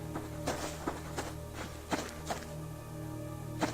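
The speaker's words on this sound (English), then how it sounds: "my own footsteps scared me" The player character walks in the survival game Subsistence, giving a few irregular, soft thudding footsteps close by against a quiet background hum, with no talking.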